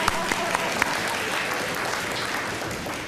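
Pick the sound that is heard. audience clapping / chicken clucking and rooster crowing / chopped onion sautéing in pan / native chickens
audience clapping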